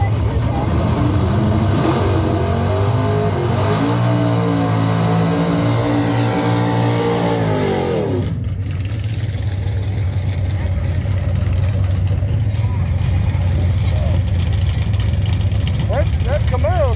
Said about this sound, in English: That Camaro sounds like you may outclass that car.